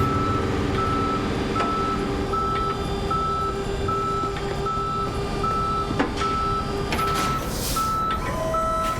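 Tow truck reversing alarm in the Police Simulator game, a steady run of evenly spaced beeps over constant engine rumble, loud and close for the whole stretch.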